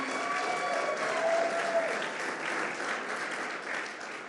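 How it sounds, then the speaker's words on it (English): A crowd of guests applauds at the grand opening of Rivers Casino and Resort in Schenectady, a steady, dense wash of clapping that swells and eases, with a faint murmur of voices mixed in. "let's give them a round of applause and congratulations to them"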